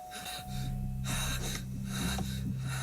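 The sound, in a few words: panicked gasp on jolting awake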